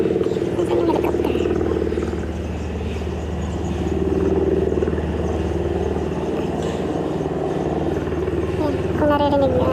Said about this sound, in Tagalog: Nasaan yung helicopter?